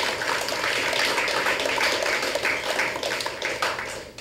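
An audience applauding a medal winner, Mr. Burrell, at a televised news event, with dense, continuous clapping that tapers off slightly toward the end.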